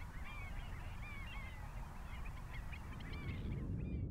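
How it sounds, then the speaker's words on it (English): Flocks of wild geese and other waterfowl over the Great Salt Lake honk and call continuously in overlapping bursts, some near and some farther off, above a steady rushing background of wind and water. "these birds are all over the water, flying overhead, and that's the only noise you hear"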